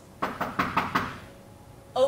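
Five sharp knocks on a door come in an even, quick rhythm, followed by a pause and another faint thud at the end, fairly close and alone.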